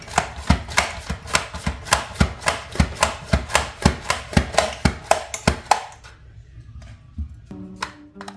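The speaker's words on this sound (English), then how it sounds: "So this little mandolin makes things go really quick" Brussels sprouts pushed quickly across a small mandoline slicer, a steady run of crisp, evenly paced slicing strokes up close that stop after about six seconds, leaving quieter kitchen handling.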